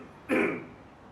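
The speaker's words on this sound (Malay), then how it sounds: "Makin teruk batuk kau ni." A single short, rough cough or throat-clear from a sick person in a Malay drama scene, close and fairly loud, lasting about a quarter second before fading into quiet room tone.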